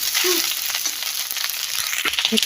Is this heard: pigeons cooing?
no